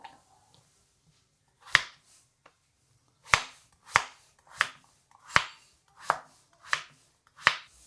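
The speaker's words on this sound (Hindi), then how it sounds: "गाजर भी काट लेंगे।" Carrots are chopped with a knife for a simple egg and vegetable pulao, giving sharp, close board-chopping strikes: one at first, a pause, then a steady run of about seven evenly spaced cuts.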